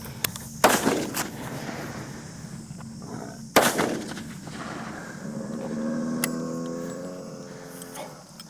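Two sharp, loud rifle shots from a HEYM double rifle fired at Cape buffalo in Mozambique, about three seconds apart, each with a rolling echo, followed by a brief lower rumble and faint talk.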